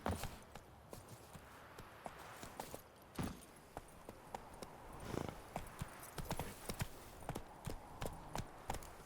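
Horse hooves clatter through a ride in The Witcher 3, a steady run of sharp clip-clop strikes over quiet game ambience, with a faint whinny and no talking.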